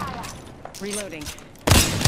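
Gunfire in Apex Legends, a short burst of loud rapid shots breaking out near the end after a quieter stretch with a voice and faint game sounds.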